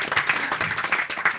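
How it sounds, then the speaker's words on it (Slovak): Studio audience applauding a guest on a Slovak talk show, a steady burst of many hands clapping close and fairly loud with no talk over it. "Zatleskajme mu, je otec."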